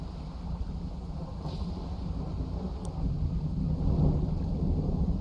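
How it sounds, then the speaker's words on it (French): Low rolling thunder from a storm in the fishing game Dredge, a continuous rumble with wind and water ambience that swells slightly louder toward the end, heard alone without talk. "Oh, y a du tonnerre là"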